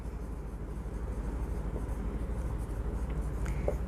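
Pen or marker writing on a board during an accounting lesson, a soft continuous scratchy rubbing with short strokes, faint and close, with no talk.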